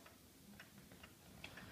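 Steady ticking from an eight-day fusee Black Forest shelf cuckoo clock with a carved full-relief case, its evenly spaced beats heard close and alone with no talking.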